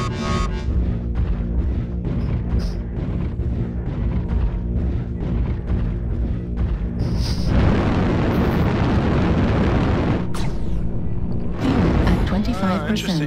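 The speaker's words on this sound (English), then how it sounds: "Artillery strike online. Target destroyed." Artillery strike explosions in a mech video game: heavy rumbling blasts and booms under game announcer voice lines, loud and continuous with a big burst midway.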